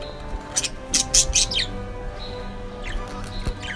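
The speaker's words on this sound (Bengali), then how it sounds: "সাদা রঙের পাখিটি শুধু ছুটে বেড়ায়" Caged budgies chirp and tweet in short, bright bursts, several calls close together then sparser ones, over a faint background hum with no talking.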